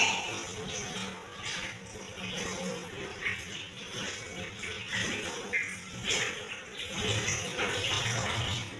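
Running water splashing steadily from a tap while hands are rinsed, a continuous close wash with faint voices in the background.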